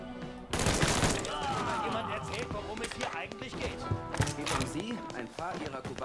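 A rapid burst of gunfire from a weapon in the video game Mafia 3, dense and loud at first, then continuing as scattered shots under someone talking.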